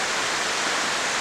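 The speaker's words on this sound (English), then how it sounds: "Jones Waterfall," Jones Waterfall in Tennessee gives a steady, dense rush of falling water, loud and close, with no other sounds.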